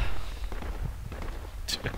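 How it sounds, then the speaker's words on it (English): Mortar rounds land in the military shooter Project Reality as a quick series of dull thuds and cracks over a steady low rumble, with a voice reacting at the same time. "Oh, fucking mortars."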